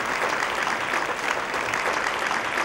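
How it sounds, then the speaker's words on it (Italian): A theatre audience at the Teatro Concordia during a music festival gives sustained, dense applause, a continuous wash of clapping with no break, loud and close. "Grande applauso per lei!"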